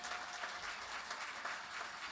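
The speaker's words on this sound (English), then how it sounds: "Give her a great round of applause" Quiet applause from a crowd at a bluegrass festival, steady clapping that sounds soft and somewhat distant, with no voices over it.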